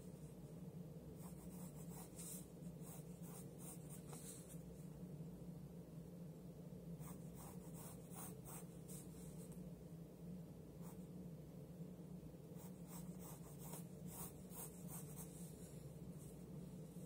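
A pencil drawing on paper makes faint, close scratching strokes in quick clusters, then pauses, then more strokes, over a steady low background hum.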